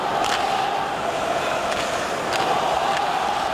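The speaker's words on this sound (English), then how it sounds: "Luongo, the cheer from the crowd" Hockey crowd at TD Garden cheering at Roberto Luongo during a Vancouver Canucks versus Boston Bruins game: a broad, steady arena roar holding at a constant level throughout, with a few faint shouts rising out of it.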